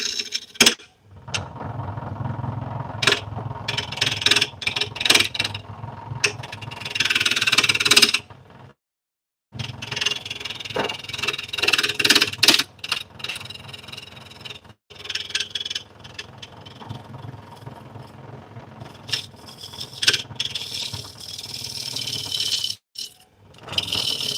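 A small wood lathe turns a large walnut and butternut piece, giving continuous rasping, scraping tool noise that rises and falls in bursts, with a couple of brief pauses where cutting stops.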